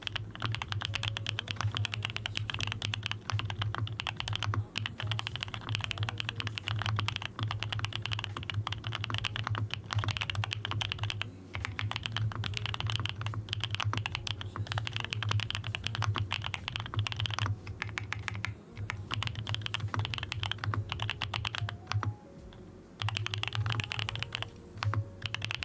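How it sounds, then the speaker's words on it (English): Continuous typing on a creamy, smooth-sounding mechanical computer keyboard, steady rapid keystrokes close up with a soft low thock throughout and no talking. "Purple, you also hear this every day too, because now you have this keyboard too"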